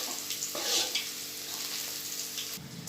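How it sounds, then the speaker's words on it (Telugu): Crushed garlic fries in hot oil with a close, even sizzle and hiss that holds steady for the whole few seconds. "ఇప్పుడు మనం దంచుకున్న తెల్లగడ్డ ఆయిల్లో వేసుకున్నాము."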